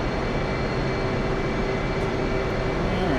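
Steady, loud jet engine whine and rumble of an F/A-18 Hornet taxiing in the DCS flight simulator, a constant drone with a faint tonal hum running unbroken throughout.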